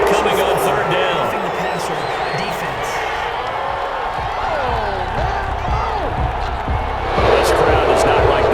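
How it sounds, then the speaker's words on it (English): A stadium crowd in the Madden NFL 21 video game, Miami Dolphins against Las Vegas Raiders, reacts to a penalty call with a sustained roar of jeers and whistles, swelling louder toward the end beneath a commentator's voice. "This crowd does not like that call."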